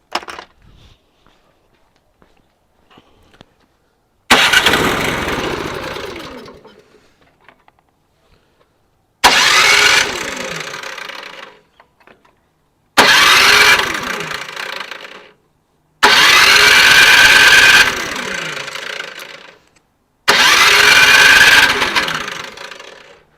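Briggs and Stratton 1024 snowblower small engine, carburetor fault, pulled over repeatedly: five loud bursts of sputtering running, each catching for a few seconds then dying away, separated by quiet gaps.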